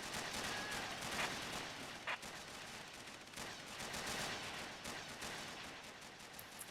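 Several precision rifles and other weapons fire in a Red Faction multiplayer match, giving a dense, continuous spray of crackling shots at low level, with a few sharper reports poking out.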